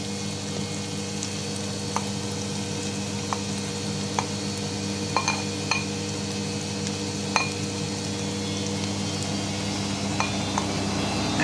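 Bagoong shrimp paste sautéing with onion in a pan gives a steady, loud sizzle throughout, with occasional faint clinks of a utensil against the pan.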